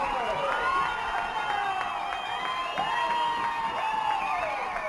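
The crowd at a 2012 Kansas 6A boys' high school soccer championship between Wichita Northwest and Topeka-Washburn Rural cheers loudly and steadily after a goal, with shouting voices rising and falling in a dense, continuous roar.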